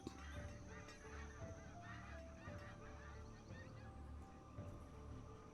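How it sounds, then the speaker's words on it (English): Seagulls calling in the video game Banished, repeated honking cries layered over an ambient game soundscape, quiet and continuous across the scene. "You know, I think I can hear seagulls in the background now"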